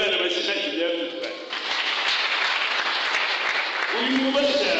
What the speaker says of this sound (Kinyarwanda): Ndabona ari benshi tuhaye Imana amashyi